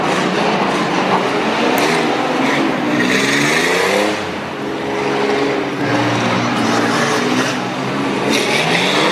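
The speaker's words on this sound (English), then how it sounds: "S10 is really overdriving every one of these corners" A Chevrolet S10 race truck engine pushed hard through the corners of a Harrisburg, Pennsylvania circuit race, a loud sustained roar that rises and falls in pitch with throttle shifts, heard up close over dense broadband noise.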